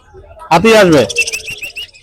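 Birds at a bird market, including mynas, give a loud burst of whistled, sweeping calls followed by a run of quick repeated chirps, close and clear with some background noise.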